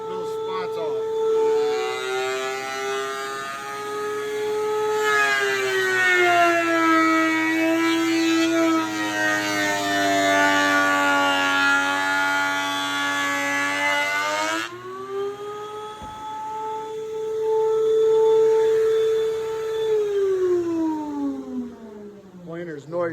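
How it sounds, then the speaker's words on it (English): Surfacing a walnut and epoxy resin shelf, a wood planer whines loudly and continuously, its pitch sagging as it bites into the board, then it briefly drops off and rises again under the load of another pass, with no talk. "Planer's noisy"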